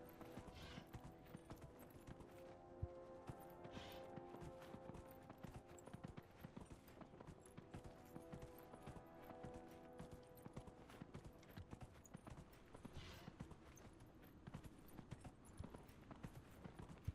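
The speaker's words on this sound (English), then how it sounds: "I think we could just probably hop on our horse and just book it." Horse galloping in Dragon Age Inquisition on farmland, hooves beating in a steady, rapid clip-clop rhythm throughout, faint and even with no pauses.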